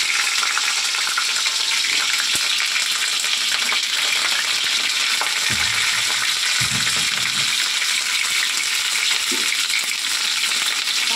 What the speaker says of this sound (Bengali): তেল গরম হয়ে গেছে, এখানে কেটে রাখা ফুলকপিটা দিয়ে দেবো।